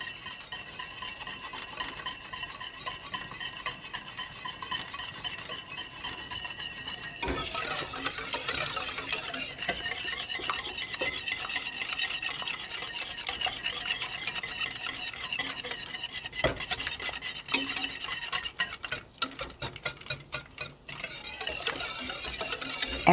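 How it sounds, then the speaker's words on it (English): A whisk works a cocoa mixture for chocolate pudding in a pot with a continuous scraping, swishing stir. It grows louder and brighter partway through, and ends in quick, rhythmic strokes. "the cocoa is going to dissolve and I'm going to whisk constantly"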